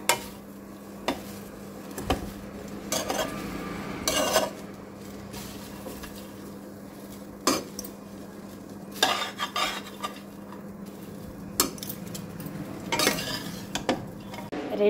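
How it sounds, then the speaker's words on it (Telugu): Fenugreek seeds roast in a pan as a spoon stirs and scrapes them, giving repeated clinks and scraping strokes over a soft sizzle, close up and fairly quiet. "రెండు స్పూన్లు మెంతులు వేయించుతున్నా. చూడండి మెంతులు ఫ్రై అయినాయి."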